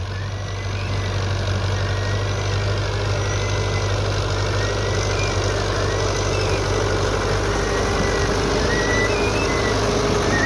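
An antique Fiat 640 tractor engine idles with no load on it, a steady low diesel rumble running continuously and fairly close throughout, with no talk.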